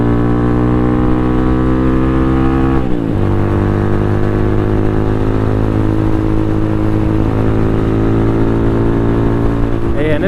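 Venom X22R motorcycle held at high RPM, its engine a loud buzzing drone that drops sharply in pitch around a gear change, then climbs steadily again as revs build, with a second shift near the end.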